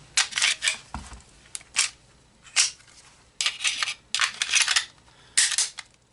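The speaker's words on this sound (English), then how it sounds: "Let's make sure that this gun is cleared." A Ruger P90 .45 ACP pistol is handled and cleared on a tabletop: a series of sharp metallic clicks, slide racks and clacks come in short close bursts separated by brief quiet gaps.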